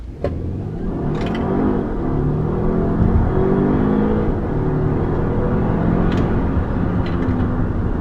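Volvo XC60 T8 plug-in hybrid pulling away hard from a traffic light, a steady strong engine and road roar heard from inside the cabin, loud and sustained for the whole stretch with no talk.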